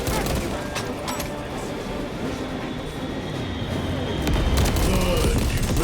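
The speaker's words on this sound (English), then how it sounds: "Airstrike incoming!" Airstrike explosions from Warhammer 40K: Space Marine 2 rumble as a dense, continuous barrage with rattling rail-like clatter and booms, growing louder near the end under faint game voices.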